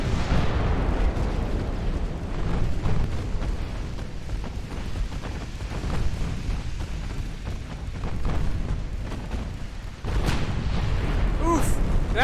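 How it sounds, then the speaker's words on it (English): Battleship blowing up under artillery fire in the naval game Ultimate Admiral Dreadnoughts: a sustained, dense rumble of booms and bursts over twelve seconds, with a renewed loud blast near the end and faint voice-like chatter mixed in. "Down goes their battleship already due to extensive fire."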